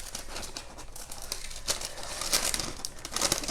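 Scissors snip a white edge from a printed paper flower cut out for decoupage, a close run of light crisp crinkling and snipping with no talk.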